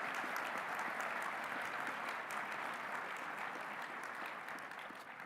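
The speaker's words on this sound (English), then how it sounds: "a round of applause for them as well" A sustained round of applause from a gathered audience, dense overlapping clapping that holds steady and fades slightly toward the end.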